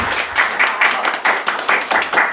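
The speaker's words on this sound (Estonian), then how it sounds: "aitäh sulle, aplaus." An audience applauds at a live podcast event, a steady wash of clapping that rises and falls in loudness for the whole stretch, with no clear talk.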